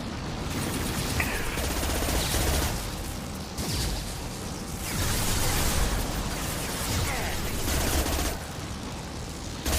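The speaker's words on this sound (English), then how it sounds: "Firing a high impact shot." Repeated heavy gunfire in Mass Effect 2, with dense overlapping bursts and booming shots that continue almost without pause through a loud combat scene.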